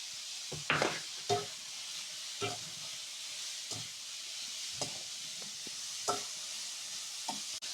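Sliced bell peppers and carrots fry in a hot pan, a soft steady sizzle broken by sharp scraping stirs of a spatula about once a second, close and fairly quiet.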